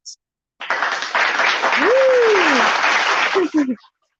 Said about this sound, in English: Round of applause for Celeste.